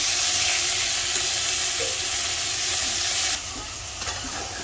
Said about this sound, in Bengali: আমার রুই মাছও প্রায় ভাজা শেষ।